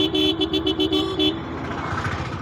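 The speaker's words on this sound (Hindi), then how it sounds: "यहाँ तो ट्रैफिक ही ट्रैफिक है बाबा" Busy city street traffic in Ranchi, heard from a motorcycle, with a rapid string of short car horn toots over the engine rumble, then the honking stops and steady traffic noise continues.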